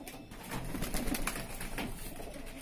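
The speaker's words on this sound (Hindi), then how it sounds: "घर के जो कलसरे हैं उनमें से एक गर्रा कबूतर निकला है" A Garra pigeon from a rooftop loft cooing softly in low, repeated throaty murmurs, close and alone over faint background noise.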